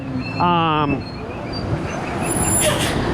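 Modern buses passing on a city street in Mexico, with a brief loud hissing brake tone, then a rumbling engine drone and traffic noise, while someone talks nearby.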